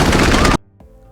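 A robot fires a gun at a boy in a film scene: a loud, dense burst of rapid gunfire for about half a second, then a sudden cut to near silence with one faint knock.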